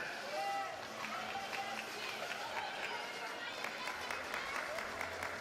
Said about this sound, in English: just extra clapping, extra incentive